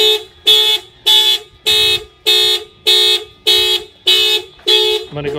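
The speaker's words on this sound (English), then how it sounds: "If anybody tries to bust out the lock or anything, okay, the alarm will fire off." A Honda CR-V's aftermarket car alarm sounds close and loud, a tonal siren blaring in eight regular, evenly spaced bursts before it switches to a lower tone at the end.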